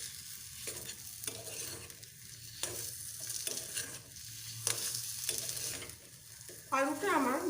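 Spiced mashed potato is sautéed in a pan for Kashmiri chilli chops, with a soft frying sizzle and repeated rhythmic scraping strokes from stirring, ending in a brief louder scrape.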